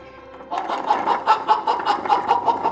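Loud, close black rooster clucking in a quick repeated series of short calls, about ten in under three seconds, with no talking.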